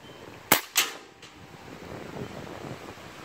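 A Crosman P1322 multi-pump pneumatic .22 air pistol fires a pellet, giving two sharp close snaps in quick succession followed by a quiet fan-like background.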